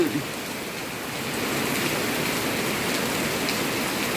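Steady rain falls in a rural Thai village, a dense, even hiss of drops on surfaces that swells slightly after the first second and continues without a break.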